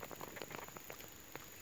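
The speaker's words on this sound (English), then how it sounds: "It's starting to rain." Rain falling in the woods on an opening-day bowhunting morning, a very faint, steady patter of scattered drops over a hissing background, with no voices.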